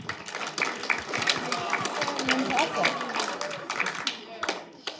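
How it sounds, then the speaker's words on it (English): Honor students at a career panel town hall applaud themselves in a lively burst of scattered, close clapping, while a voice speaks briefly over it. "Give yourselves a round of applause."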